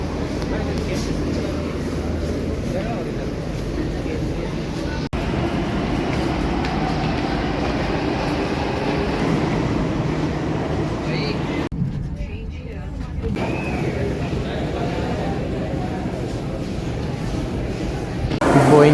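Steady low rumble and rattling of a moving metro train carriage in India, continuous throughout with a brief quieter dip, while people talk faintly nearby.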